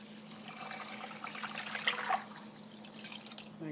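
Clean water is poured onto rice in a pot, a soft continuous splashing and trickling at close range with a low background hum, rising briefly in the middle before settling.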